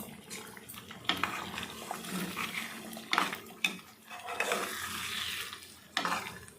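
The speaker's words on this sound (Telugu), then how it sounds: "జాగ్రత్తగా అడుగంటుకోకుండా మనం దీన్ని కలుపుతూ వేపుకోవాలి" Raw prawn pickle is stirred and fried in a pan, giving irregular scraping and clattering strokes over a faint, watery hiss, fairly quiet and without speech.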